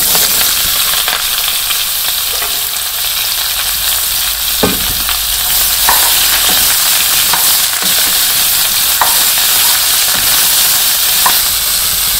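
Vegetables sizzle loudly in hot oil with panch phoron, bay leaf and green chilli in a village-style kitchen, a continuous close frying hiss with occasional stirring clicks.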